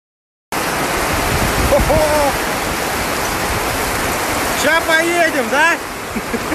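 Rain pouring steadily, a broad constant rushing hiss that begins abruptly after a brief silence, with voices speaking briefly over it near the middle and again toward the end.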